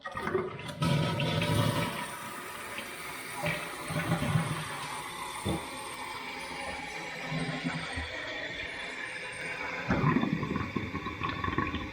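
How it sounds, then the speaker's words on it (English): A dual-flush toilet flushed on its smaller button, a loud close rush of water that swirls and drains, then settles into a quieter refilling hiss with a second surge near the end. "Now this is what a 2 flush is, or the 2 button on the bottom."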